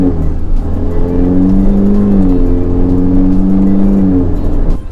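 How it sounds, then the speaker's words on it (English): A 2019 Ferrari Portofino's engine growls steadily under light acceleration, a loud, smooth drone that rises slightly in pitch from inside the cabin. "So I put my foot down just a bit and you can hear the engine."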